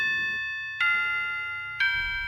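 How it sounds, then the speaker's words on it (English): A bell rings at midnight in the game Wonderful Everyday, clear, resonant strikes, each tone ringing out and fading before the next, about three strikes close by. "Sound of the bell."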